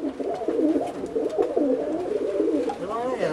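Pigeons being readied for a pigeon show in Kiev coo steadily in a close, continuous warbling run, with a brief voice partly overlapping.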